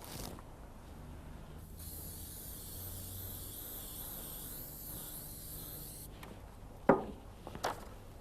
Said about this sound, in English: I'm using a petroleum-based spray